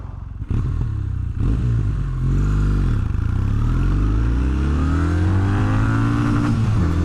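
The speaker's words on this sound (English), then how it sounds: "the motor's happy to rev out" A Kawasaki W800 motorcycle engine revs hard while riding, loud and close, its pitch climbing and falling through several gear changes in a steady, continuous drone with no talk.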